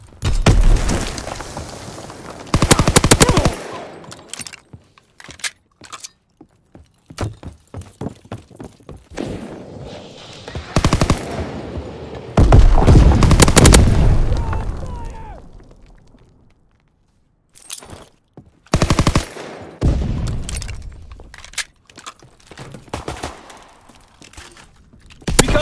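Heavy gunfire and explosions fill a World War II shooter match on a hardpoint map, loud bursts of automatic fire and booms arriving in dense clusters separated by brief quiet gaps.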